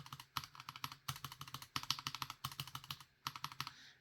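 Typing on mechanical keyboards fitted with Gateron G Pro 3.0 and JWK switches, crisp clacky keystrokes in quick bursts with short pauses between, close and clear with no talking.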